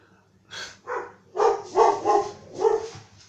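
Several sharp dog barks in a quick irregular series, fairly close and loud, with no other sound around them.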